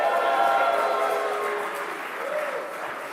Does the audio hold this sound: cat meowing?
no